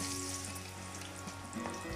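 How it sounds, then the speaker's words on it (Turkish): Eggplant, peppers and garlic fry in hot oil, a steady, close crackling sizzle that holds at an even level throughout. "batlıcan, biber, sarımsak e, bunların hepsini kızartıyorum"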